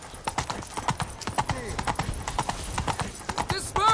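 Roach, the horse in The Witcher 3, gallops with rapid rhythmic hoof clip-clops on hard ground, close and prominent, while voices talk over the hooves and a short whinny-like call comes near the end.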